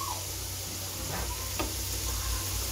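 Potato pieces fry in a pan with a steady, close hiss of oil, an even sizzle running throughout with a couple of faint clicks of stirring.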